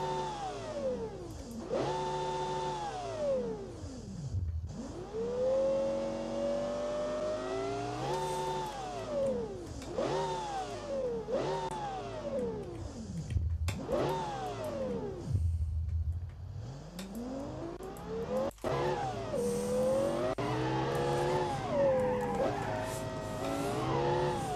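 In BeamNG, a car exported from Automation that will not shift up revs its engine repeatedly. The loud engine note climbs, drops and climbs again in long sweeping cycles, with no talking.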